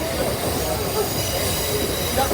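A Blue Ridge Scenic Railway passenger train rolls along its rails, giving a continuous, loud rumble of wheels and rail noise heard from on board, with no talk.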